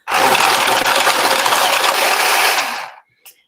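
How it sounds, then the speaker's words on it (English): A small shuffling device churns Lenormand cards in a dense, steady mechanical whirr and rattle for about three seconds, close and loud, then stops abruptly with a faint click. "Bit of noise as this little duva thingy shuffles."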